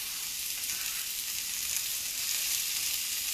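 Diced vegetables and carrots sizzling in a pan for a farro stir fry, a soft, continuous frying hiss that stays even and fairly quiet, with no talking.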